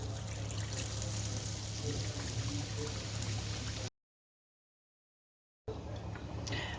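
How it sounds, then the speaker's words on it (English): Battered fish deep-frying in a fryer of hot oil at about 170 degrees, giving a steady, dense sizzle and bubbling hiss that stops briefly in a gap, then resumes at the same level. "dip the fish into the batter so it's nice and coated, and pop it into the fryer"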